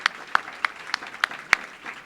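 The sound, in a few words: round of applause at white coat ceremony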